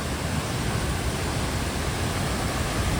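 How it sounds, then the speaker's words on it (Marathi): The Ukshi Ranpat waterfall in the Konkan forests near Ratnagiri plunges from a great height, a steady, dense roar of falling water that fills the whole span without a break and without voices. "हा जो धबधबा आहे ना खूपच उंचावरून पडतोय"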